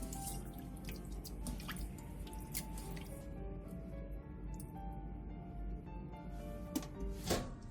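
Oysters are washed by hand in a bowl of salted water, giving soft, close, irregular drips, splashes and squishes at low level.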